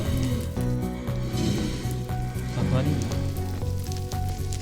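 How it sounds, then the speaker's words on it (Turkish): Blaze mob in the Minecraft video game, a steady crackling, hissing fire-like sizzle running continuously at moderate loudness, with faint breathy swells and no speech over it. "şuradan Blaze sesi geliyor"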